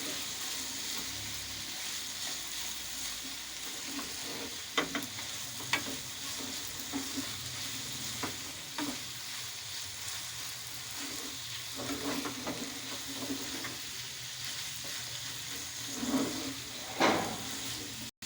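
Chicken fries in a pan with crushed red chili and black pepper while being stirred: a steady broad sizzle runs throughout, with occasional soft scrapes and clinks of a spoon against the pan, fairly quiet and close.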